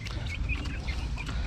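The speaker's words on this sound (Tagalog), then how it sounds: "Binigyan natin ng pagkain tong mga manok." Rhode Island Red chickens cluck softly at feeding time over a constant noisy background, several birds close together, no voices.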